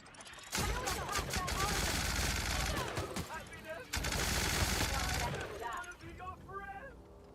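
Rapid bursts of video game gunfire, loud and close, firing in two long volleys with a short pause between, followed by quieter talk.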